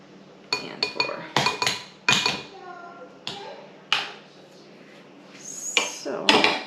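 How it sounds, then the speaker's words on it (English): A spoon clinks and scrapes against a bowl while mixing sloppy joe sauce, giving a series of sharp, close taps and knocks in irregular bursts, with a quiet voice talking at times. "I'm just going to take the spoon, mix it together, and here is the sauce for our sloppy joes"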